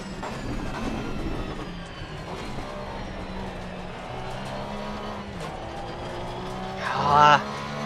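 A Porsche 911 GT3 race car lapping the Nürburgring in Assetto Corsa Competizione, its engine droning steadily with rising and falling pitch through gear changes, and a brief louder surge near the end, under continuous talk.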